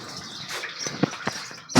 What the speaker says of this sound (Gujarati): એ પાણી ચાલુ છે